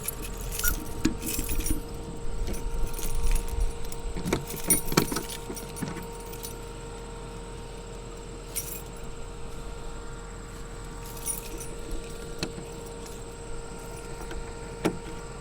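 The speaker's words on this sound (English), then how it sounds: "Take a gander at which of the 7011 keys you've got." Metal keys on a key ring jangle and clink in repeated bursts at close range, loudest early on and then in occasional shakes, over a steady electrical hum from telecom equipment.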